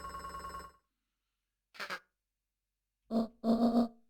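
A telephone rings in the video game Beacon Pines, sounding in short separate bursts: a sustained tone at the start, a brief double ring, then a louder cluster of rings near the end, with no talking.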